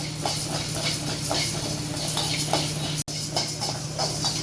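Black pepper, cumin, fenugreek and dried red chillies dry roast in a pan, giving a dense, steady hiss with faint crackles and scraping under a constant low hum.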